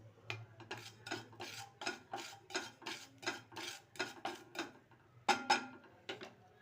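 Salt being dry-roasted in a hot pan for mango pickle, with steady rhythmic scraping and clinking strokes of a spoon against the pan, close and clear, no talk.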